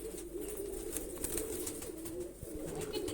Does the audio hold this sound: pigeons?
yes